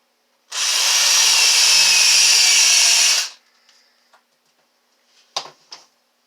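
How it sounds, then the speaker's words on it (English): A power drill with a countersink bit bores into a tripod phone-holder workpiece in one loud, steady whir lasting about three seconds, followed by faint clicks and a couple of sharp knocks as the tool is set down. "Put a countersink bit on, and for the bottom we're going to countersink."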